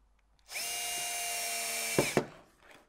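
A power drill drives a screw to fix a reference template onto a wooden workpiece in a workshop: one steady whining run of about a second and a half, then two short bursts as the screw seats, close and fairly loud.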